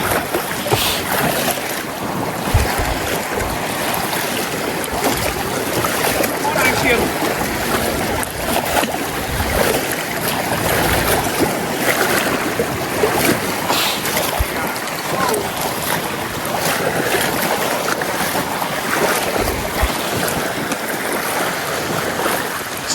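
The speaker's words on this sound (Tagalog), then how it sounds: "Kaso lakas ang hangin." Strong wind buffets and roars over open sea from a fishing boat, with splashing waves, steady and loud throughout; voices are faintly present.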